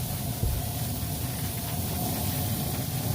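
A steady broadband hiss of aerosol cooking spray on corned beef cabbage balls at a barbecue pit runs continuously for a few seconds over a low rumble, with no talking.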